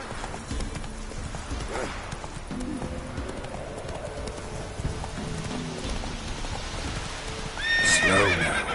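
The horse Roach in Witcher 3 clip-clopping steadily through rain, hooves thudding close by, ending in a loud drawn-out neigh near the finish.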